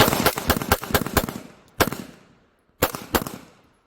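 Handgun shots fired on a range after drawing: a rapid string of sharp, loud cracks, then several more spaced shots, each ringing out briefly, with no talking.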